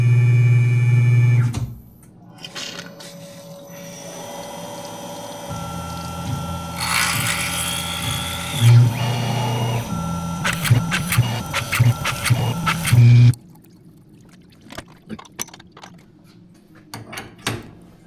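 A CNC machine in a home workshop drills a hole pattern in plates for a DIY sliding table saw bench, a steady motor whine with rising bursts of cutting noise, then abruptly stops, leaving quiet workshop clicks.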